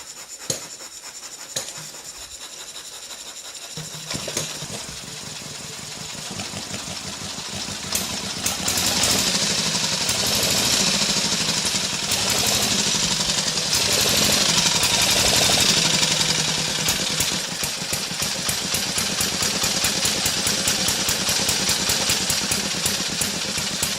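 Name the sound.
antique 1913 Elk motorcycle engine running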